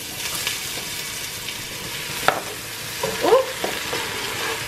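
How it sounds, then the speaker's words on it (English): Onion frying in the rich juices left from browning lamb shanks, a steady close sizzle with a couple of sharper scrapes and stirs of the spoon near the end, no voices. "now I'm gonna fry my onion in all these delicious juices"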